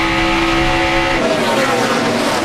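A stock car's race engine roars up close during a race as the driver works the throttle, its pitch wavering and dropping as he eases off, loud and without talk.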